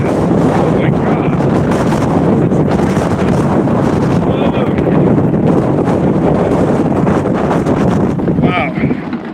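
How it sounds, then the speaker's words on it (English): Strong, relentless tropical storm wind roars and buffets the microphone on a boat throughout, a dense, continuous rush with faint creaks and rigging noise underneath. "it is ridiculously windy"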